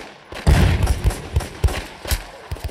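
Rapid bursts of Roblox video-game gunfire, a cluster of punchy low thuds and cracks fired in quick succession, loud and up front.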